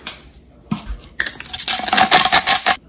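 Food in a bowl is tossed and stirred with Cajun seasoning and salt, giving close scraping, clinking and rubbing sounds that build into a steady, busy mixing for a couple of seconds.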